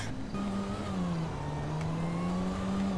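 A car engine in GTA 5 drones and revs steadily at mid pitch, rising slightly, with a thin, raspy tone, as if without exhaust, and no voices.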